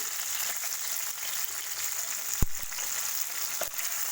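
Drumstick pieces frying in hot oil for pickle give off a steady, close sizzle with a few sharp utensil clinks against the pan.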